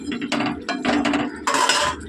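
Clattering metal pot and utensil knocks as a pot of vegetarian potato curry (alur dom) is lifted off a kitchen stove, several close, irregular clanks and scrapes in quick bursts.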